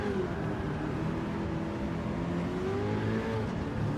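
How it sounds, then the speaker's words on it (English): A modified Toyota Hiace van with an engine swap in Gran Turismo 7 spins its wheels at the Tokyo track, the engine droning steadily while the rear tyres squeal in wavering tones throughout, with no talking. "It's that wheel spin, just making those rear tyres squeal"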